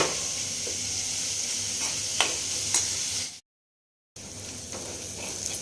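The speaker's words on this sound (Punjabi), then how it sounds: "ਉਹ ਫਿਰ ਪਾਇਆ ਤੜਕਾ ਲੱਗਿਆ ਸਵਾਦ ਲੱਗਦਾ" Hot oil sizzles loudly as a tempering for mustard greens saag is made in a pan, with a few sharp crackles and a brief silent gap partway through.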